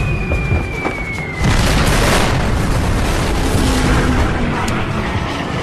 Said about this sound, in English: Ferry's bombs strike aft of the battleship's superstructure.